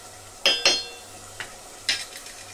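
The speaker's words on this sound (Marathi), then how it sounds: "चांगलं शिजू द्यायचं. हे टोमॅटो आणि कांदे." Tomatoes and onions cook in a pan for a Marathi vangi bhaji, with a few sharp stirring scrapes and clinks of a utensil against the pan over a faint low background.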